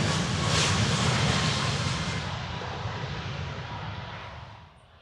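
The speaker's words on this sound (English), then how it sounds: "And that was a plane taking off." A jet airplane roars loudly as it takes off, the engine noise rumbling and hissing before gradually fading into the distance.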